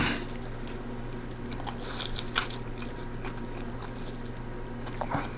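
Someone bites into an air-fried naan pizza with cheese, giving a few quiet crunches and chewing sounds close to the listener over a steady low background hum.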